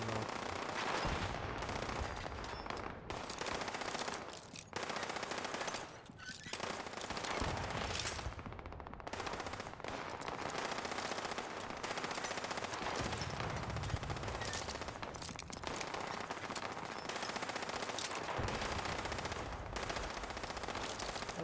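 An NPC in a video game fires a gun repeatedly, dumping magazine after magazine: continuous rapid automatic bursts, loud and dense, with only brief pauses between strings of shots.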